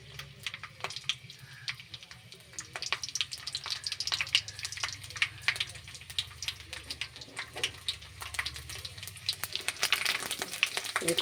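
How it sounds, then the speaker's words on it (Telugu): Cumin, mustard seeds, garlic cloves and dried red chilies spluttering in hot oil for gongura chutney, a steady close sizzle scattered with sharp crackling pops throughout, with no talking. "అవి చిటపటలాడుతున్నప్పుడు"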